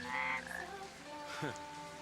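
Several frogs croak in quick, raspy bursts against a soft, steady ambient backdrop in a video game, Final Fantasy XIII, during rain, fairly close and clear with no talking.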